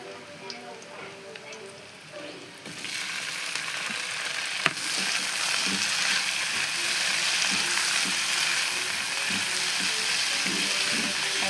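Ginger, garlic and onion sauté in a hot pan for chicken tinola, a sudden loud sizzle starting partway in and then crackling steadily with scraping stirs and clatter, after a quieter lead-in.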